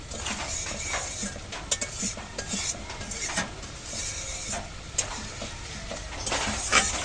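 Potatoes tossed with spices while cooking a light fish curry of bele and tengra fish with ridge gourd; dishes and a stirring spoon clink against the pan over a steady low sizzle, with occasional sharper metallic taps close by.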